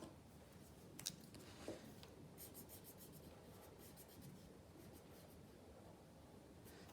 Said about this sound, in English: we'll draw some shapes on there with black pen